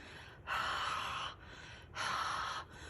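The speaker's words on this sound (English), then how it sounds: "I'm going to put this up to my mouth and I'm going to exhale on it" Two long, close hot-air exhalations are blown onto a rubber stamp for card making, each a breathy rush lasting about a second, separated by a short pause.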